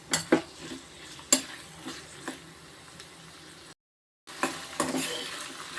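Cashews roast in ghee for a sweet pineapple payasam, with soft steady sizzling and scraping spoon strokes against the pan, stirred close by, then a brief silent gap before the sizzle resumes.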